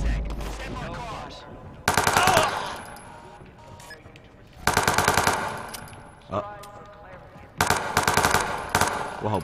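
Bursts of automatic gunfire rattle out in the video game Watch Dogs 2, three long rapid volleys with single shots between them, loud and close over game sounds, with a voice speaking in places.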